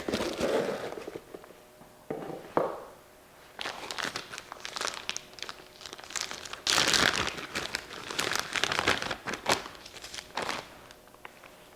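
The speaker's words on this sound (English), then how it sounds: "always the same packaging with that nice little bed of tissue paper to protect your cigars" Tissue paper crinkles and rustles inside a luxury cigar box as it is unpacked, with repeated close, bursty crackles and tearing-like rustles running throughout.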